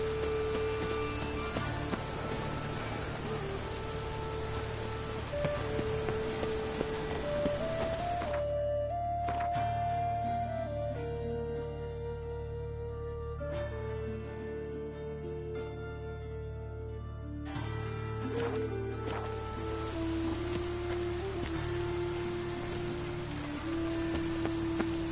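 Steady rain falls across a town street in The Witcher 3: Wild Hunt, a continuous soft wash of drops heard close and even for the whole stretch, laid under sustained musical tones with no talking.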